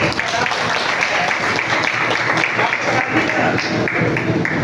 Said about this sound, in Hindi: एक बार जोरदार ताली इनके लिए।